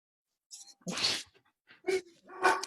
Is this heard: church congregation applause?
no